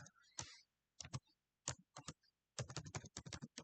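Close, quiet keystrokes tap out code on a computer keyboard, with scattered single presses that give way to a quick run of clicks near the end. No voices are heard.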